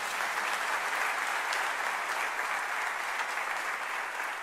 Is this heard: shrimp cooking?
no